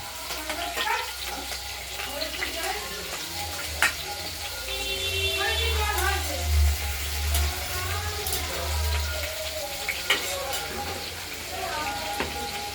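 Cut potatoes hit hot oil tempered with bay leaf, cumin and dried chillies and sizzle steadily through the middle of the clip, with a few clinks from the pan, while a voice talks over much of it.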